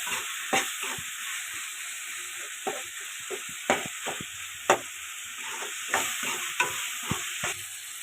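Mashed tomatoes and halved green chilies fry in oil in a pan while being stirred, with frequent sharp spoon scrapes and knocks over a continuous sizzle, close up and without speech.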